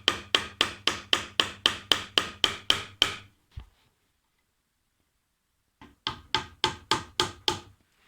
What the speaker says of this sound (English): now I will nail them in place